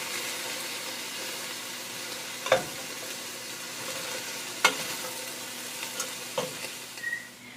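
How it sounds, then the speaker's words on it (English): Steady sizzling of peppers and onions frying in a pan for steak fajitas, a constant crackling hiss broken by a few sharp clacks of a utensil against the pan. "I just showed you the pepper mixture with the onions sizzling."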